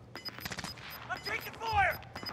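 Gunfire in Call of Duty: Modern Warfare, with rapid shots and sharp bursts under overlapping player voices and game effects, fairly close.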